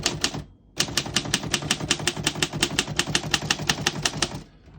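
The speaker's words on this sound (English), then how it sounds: "As you can see, all the keys type nice and none of them skip or stick." A 1937 Underwood Universal antique manual typewriter types a rapid, even run of sharp key strikes after a brief pause, close and loud, with no talking.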